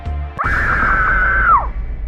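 A girl's loud, sustained high scream rings out alone for about a second after a brief thud, inside a house at night, then cuts off sharply.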